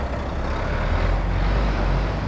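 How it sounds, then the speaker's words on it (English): Traffic noise from cars passing on a road, a continuous broadband rumble with low engine drone, steady and moderately loud with no talking. "A little bit noisy with cars and all that."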